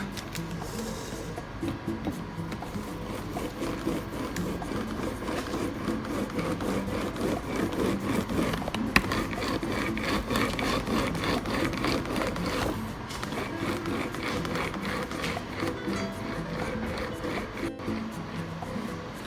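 Pumpkin pie dough is rolled out with a rolling pin to about a quarter inch thick, giving a continuous, even rubbing and rolling sound that goes on without pause. It is close and moderately loud, with no talking.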